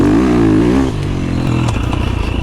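A motocross motorcycle engine, smoother than a 2-stroke, drones loud and close, holding a steady pitch before dropping and settling into a lower, throbbing idle.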